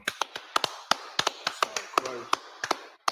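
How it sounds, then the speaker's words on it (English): A congregation at a Sabbath service claps in scattered, crisp hand claps, separate sharp strikes at an uneven rhythm rather than a dense roar, close and fairly clear. "Let's clap it up."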